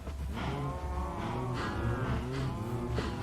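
Several cows in the game Minecraft moo in low, drawn-out calls that overlap one another, fairly close and continuous with no talking.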